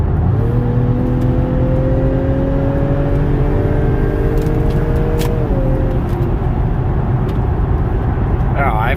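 A 2.0T Acura TLX SH-AWD engine accelerating, a loud, close, rising hum and whir from the cabin as revs climb and shift, with a continuous road rumble underneath.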